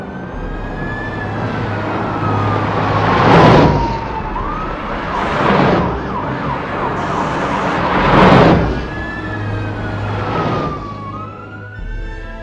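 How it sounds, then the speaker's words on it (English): Wailing fire engine sirens sweep up and down over rumbling engines as several fire engines roar past a station in waves, loud and close, with no voices. "Several fire engines passed the station"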